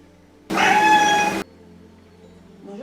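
A cat lets out a single loud, drawn-out meow lasting about a second, close by in a quiet indoor room, followed by faint background sounds.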